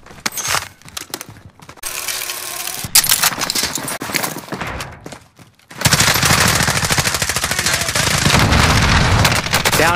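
Gunfire in the video game Warzone: scattered shots and clatter at first, then a loud, dense burst of rapid automatic fire that hammers on steadily to the end.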